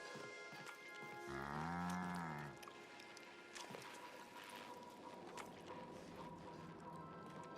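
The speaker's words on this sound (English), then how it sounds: "Why do we have woolly cows on board?" A woolly cow aboard a ship in the video game The Outer Worlds lets out one long, low moo lasting over a second, followed by quiet clattering ship ambience.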